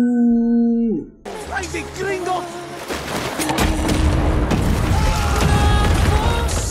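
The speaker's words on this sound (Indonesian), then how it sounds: "Tempat itu pun meledak dan terbakar tak tersisa." A loud explosion and roaring fire in a film fight scene, opening with a sudden blast after a falling tone, then dense crackling, booming rumble and debris noise that builds and holds steady, with voices mixed in.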